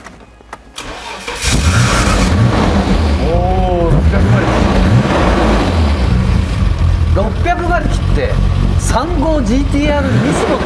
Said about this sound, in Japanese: ちょっとこれエンジンの音を聞かせていただけますか